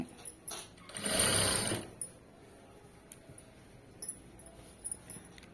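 A sewing machine stitching piping onto fabric runs in one short, steady whirring burst of under a second, then stops, leaving quiet room tone with a few faint clicks.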